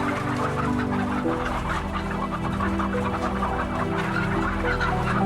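Many hens in battery cages inside a laying warehouse cluck and murmur together in a dense, continuous chorus, with a steady low mechanical hum underneath.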